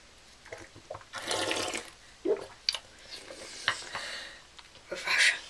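Water running into a cup until it overflows, in irregular splashing and trickling bursts with brief gurgles and drips, fairly close and moderately quiet, no speech.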